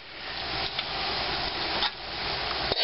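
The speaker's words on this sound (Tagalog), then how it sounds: "Ito yung ginigisa ko ng ground beef." Ground beef sautéing in a pan for palabok and spaghetti, crackling in a dense, steady sizzle broken by a few light clicks of stirring.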